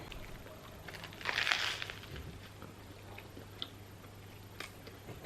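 Crunchy Richmond vegan bacon, slightly burnt and dry, chewed in close, quiet bites, with a brief louder crunch burst near the start and a few faint crackles afterward.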